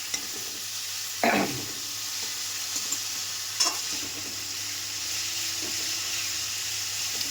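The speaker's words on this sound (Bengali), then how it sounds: "এবার একটু নাড়াচাড়া করে নেবো, আলুটা একটু মশলাটা নিয়ে মাখিয়ে যাবে" Potatoes coated in turmeric and spices fry in a pan over a steady close sizzle, broken by two sharp scraping stirs of a spatula against the pan, with no talking.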